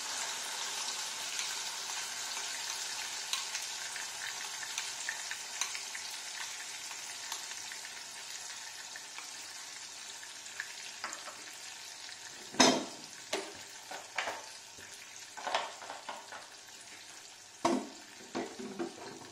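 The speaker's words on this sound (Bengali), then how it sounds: "আমি ওই তেলের মধ্যে যেটা বেটে রেখেছিলাম মশলাটা সেইটা দিয়ে দিলাম" Ground spice paste sizzles in hot oil left over from frying paneer kofta, a loud, continuous, close frying hiss. In the latter half it gets sharper, with scraping stirs and clinks. No one speaks.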